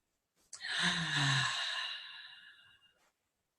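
One slow, audible breath, drawn in and then released with a soft sigh-like exhale, close and alone, taken during a laughter yoga exercise.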